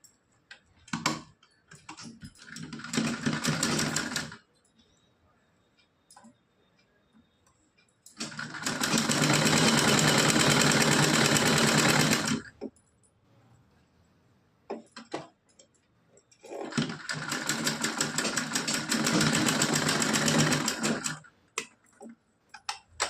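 A sewing machine stitches lace onto a small doll's dhoti-kurta dress in three long, steady bursts of whirring, separated by pauses filled with light handling clicks.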